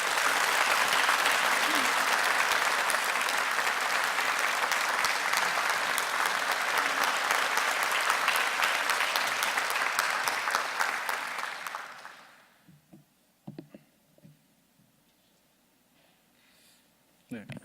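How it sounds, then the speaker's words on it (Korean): A church congregation breaks into warm, sustained applause to welcome a guest speaker, dense clapping from many hands that holds steady for about twelve seconds before fading out, followed by a few scattered sounds and a quiet room. "우리 박수로 뜨겁게 영접해 주시고"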